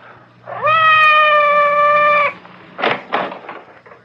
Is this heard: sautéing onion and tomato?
no